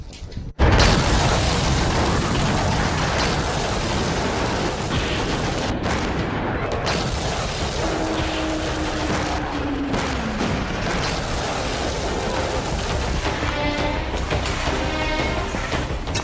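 Loud, continuous blasts and rumbling from white phosphorus bombs striking a Ukrainian city, a dense barrage of booms and crackling bursts with no pauses across the whole stretch.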